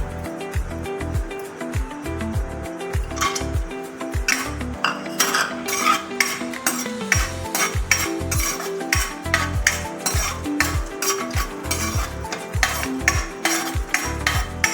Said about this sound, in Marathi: तुपामध्ये आपण बदाम टाकून घेऊया थोडं तूप गरम झालं आपण त्याच्यामध्ये बदाम टाकून घेऊ